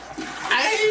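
A voice-activated toilet flushing in a condo bathroom, a brief rush of water swelling louder partway through and continuing to the end, with a voice heard just before the flush.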